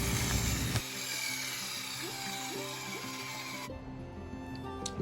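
Table saw cutting small wooden knife handle scales, a steady whining motor hum with harmonic tones that drops off abruptly partway through as the blade spins down, no talking.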